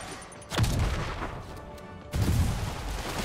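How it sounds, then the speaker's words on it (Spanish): Gunfire in the Spider-Man PS4 video game, two loud booming bursts with rumbling tails, the second about one and a half seconds after the first. "aquí me están disparando"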